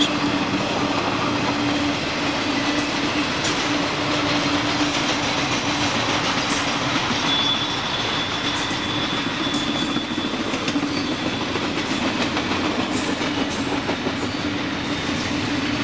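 A train rumbles past the abandoned Mifflin Railroad Depot in Pennsylvania, a loud continuous roar of rolling cars with rhythmic wheel clatter and a faint squeal, sustained throughout.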